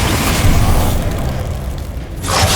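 A loud, rumbling blast from the Confringo explosion spell in Hogwarts Legacy, a sustained booming roar that fades slightly before a second burst swells at the end.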